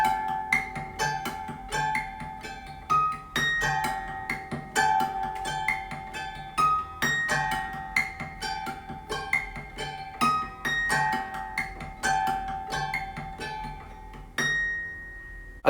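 Guitar chimes struck behind the nut, mixed with hammer-ons and pull-offs on the strings, ring out as a steady rhythmic run of bright plucked notes, close and clear with no talking.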